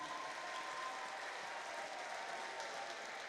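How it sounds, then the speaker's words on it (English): Steady crowd applause after a Muay Thai fight, a dense even patter of clapping that holds at the same level throughout with no voices on top. "he deserves a round of applause for that performance"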